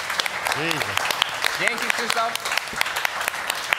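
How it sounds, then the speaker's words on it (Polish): Applause from a live podcast audience at a festival for a guest named Krzysztof, a steady clapping bed with someone speaking briefly over it. "Moi drodzy, wielkie brawa."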